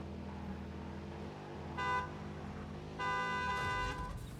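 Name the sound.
vehicle horn honking in a video game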